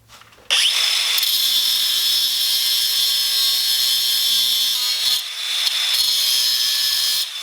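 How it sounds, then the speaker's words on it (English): Power grinder cutting down the unthreaded part of a Corvette wheel stud, a loud steady high-pitched whine starting abruptly and holding close for several seconds, with a brief dip near the end. "this non-threaded portion of the stud we're gonna have to grind off"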